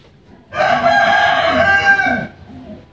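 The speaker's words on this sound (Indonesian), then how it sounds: "jadi berisik banget ya. Ayam." A rooster crows once, close and loud, a single sustained call of about a second and a half that rises and then cuts off, with quiet background before and after.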